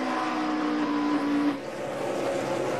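Race cars on the track during the 2013 Dupont Pioneer 250, a steady engine drone with a rising then dropping tone as cars pass, moderately loud and continuous.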